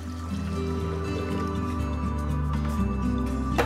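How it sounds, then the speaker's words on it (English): Two cups of filtered water poured into a blender jar for cashew milk, a steady trickling stream running the whole time, close by with no talking. "2 cups filtered water."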